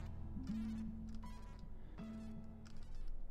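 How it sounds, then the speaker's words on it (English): Bees buzz steadily in a roguelite video game, a continuous insect drone with wavering pitch that persists throughout, overlaid by intermittent synthetic game tones and effects. "I now understand that angering bees is very bad"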